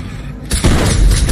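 A grenade goes off in State of Decay 2 with a single loud, close blast and a brief rumbling tail that follows a quieter moment.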